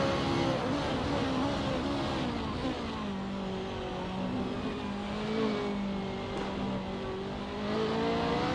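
A BMW M3 race car engine in the Assetto Corsa racing game, a steady mid-pitched drone rising and falling through gear changes as it laps, heard alone without talk.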